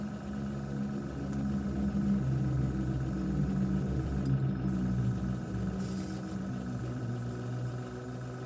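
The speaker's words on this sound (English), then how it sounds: "Put the compressor on." An air compressor runs on a model builder's workbench, a steady low mechanical hum that swells slightly and then holds, with a couple of faint clicks near the middle.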